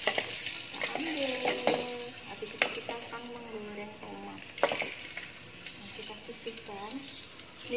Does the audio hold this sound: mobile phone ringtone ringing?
no